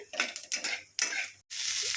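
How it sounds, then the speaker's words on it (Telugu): Tempering spices crackle and sizzle in hot oil until light brown, with a few quick stirring scrapes; the frying hiss swells loud near the end. "అవి బ్రౌనిష్ కలర్ వచ్చేంత వరకు పోపుని వేయించుకోండి"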